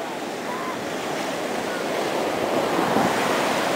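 Sea waves washing onto the beach at San Juan de las Galdonas, Sucre, Venezuela, during a turtle release, a steady, broad roar of surf with wind rising slightly toward the end.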